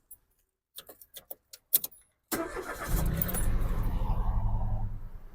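A manual-transmission 2012 Mitsubishi Mirage 1.2 hatchback: several short clicks and key or switch sounds first, then the engine cranks and catches, settling into a steady, fairly loud idle close by.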